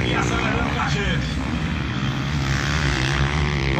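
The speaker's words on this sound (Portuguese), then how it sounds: "Que passagem acelerando, fazendo bonito." Motocross bikes in a national pro class race at Remanso accelerate past on the dirt track, a loud, continuous engine roar filling the clip while a commentator talks over it.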